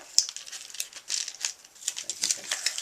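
Muffler tape being handled, crinkled and torn while fitting it around a Swiss Volcano camp stove, a close run of crisp, papery rustles and short rips coming in irregular bursts with no voices.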